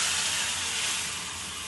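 Hot water hits spices frying in oil in a pan for a Bengali chital fish curry, a loud, steady hiss that holds evenly and fades slightly at the end, with no voices over it.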